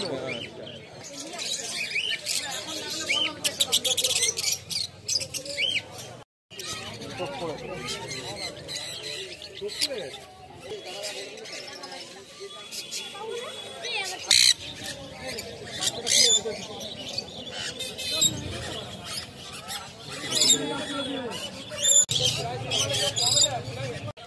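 Cockatiels and small cockatoos at the Serampore pet market give busy, overlapping chirps and squawks over steady crowd babble and nearby voices throughout.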